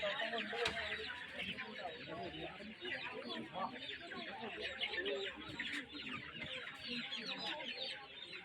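A flock of two-month-old Gramasree egg-laying hens being unloaded from a vehicle at a veterinary hospital distribution, clucking densely and continuously, loud and close, with a crowd murmuring in the background.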